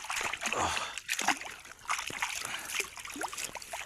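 A shed deer antler is washed in water outdoors in the field, with repeated splashing and sloshing in irregular bursts close to the listener.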